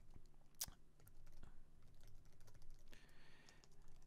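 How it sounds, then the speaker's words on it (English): Someone types PowerShell code on a computer keyboard in quick, quiet bursts of key clicks, with one sharper clack near the start, close to the mic. "I'm just going to type this out because I can type faster."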